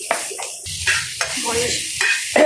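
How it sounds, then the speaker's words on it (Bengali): Chili and onion frying in a pan, with loud close stirring scrapes and bursts of sizzle over a few seconds, no voices. "মরিচটা ভাজছি, পেঁয়াজটা একটু ভেজে নিলাম"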